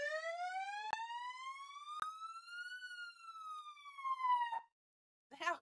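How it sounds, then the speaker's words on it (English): A loud siren on a Fire Boss firefighting aircraft winds steadily upward in pitch, holds a high wail, then cuts off abruptly, with a couple of sharp clicks along the way. "I never pictured hitting a fire siren in an aeroplane."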